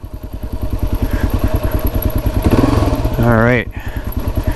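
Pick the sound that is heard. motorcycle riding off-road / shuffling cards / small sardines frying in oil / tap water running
motorcycle riding off-road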